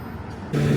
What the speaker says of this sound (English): There's a tow truck here dropping off a car